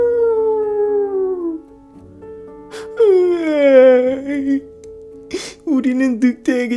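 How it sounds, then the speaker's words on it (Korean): Wolf howling, long wavering cries rising and falling with several overlapping howls, heard in a dark, rainy, windy forest at night, fairly close and clear. "어디에선가 늑대의 울음소리도 들려왔어요"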